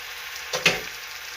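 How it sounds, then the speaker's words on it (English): Kimchi sizzles steadily in a hot pan for kimchi stew, with a constant frying hiss and two brief scraping stirs near the middle. "After putting the kimchi, we can also continue mixing it."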